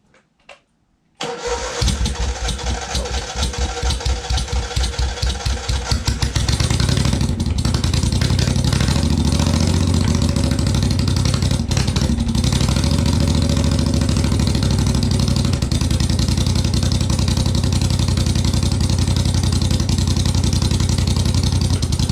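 A 50-plus-year-old Moto Guzzi 700 V-twin Italian motorcycle, recently rescued from neglect and given fresh gas, cranks over and starts, then runs loud and steady close by at a rough, rumbling idle.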